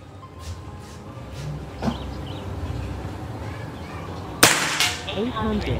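A single sharp PCP air-rifle crack snaps out, followed by a faint metallic ring, amid quiet outdoor ambience and a few softer taps.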